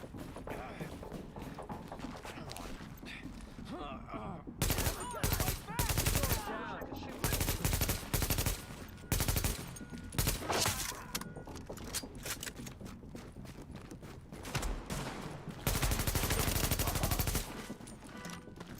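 Automatic and burst gunfire in the video game The Division, rapid rattling volleys in several loud bursts with brief pauses between them, heard under voices talking.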